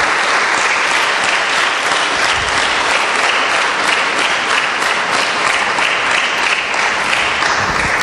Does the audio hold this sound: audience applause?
yes